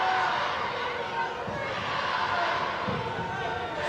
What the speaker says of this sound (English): Forest fans cheering the Red Army on